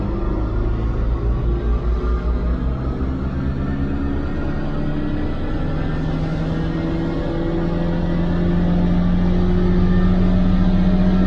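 A vintage car engine runs at full throttle on a rolling-road dynamometer, a loud sustained drone whose pitch climbs steadily through a long fourth gear, swelling near the end.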